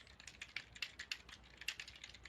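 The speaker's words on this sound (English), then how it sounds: "Now we hear a lot of typing" Rapid keystrokes clatter on a computer keyboard in a control room during an ROV Hercules dive, faint irregular clicks in quick bursts, with no voices.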